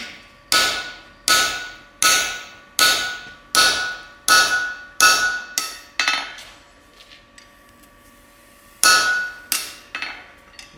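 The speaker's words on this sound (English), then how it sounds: "I'm using my hammer to line it up." A hand hammer strikes a punch on a steel hinge plate in a series of sharp, ringing metallic blows, about nine in a row, then a pause and three more, close and loud.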